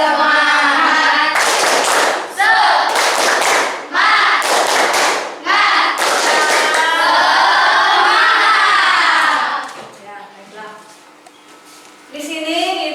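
A school class performs a rhythmic clapping cheer, tepuk semangat, in bursts of loud, patterned claps mixed with children's chanting voices, then fades into quieter talk near the end.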